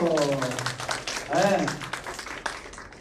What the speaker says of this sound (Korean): 우리 고3들 위해서 오늘도 박수. 힘내라고 박수.